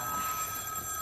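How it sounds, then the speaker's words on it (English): A telephone rings in a children's television scene, a steady electronic trill heard close and continuous through the whole moment, with no voices over it. "the phone is ringing"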